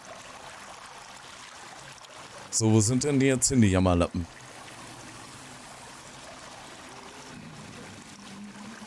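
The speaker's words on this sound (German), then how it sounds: "das Wasser ist echt zu laut" Flowing water in the video game Sons Of The Forest makes a steady, rushing stream sound throughout, with someone speaking briefly over it midway.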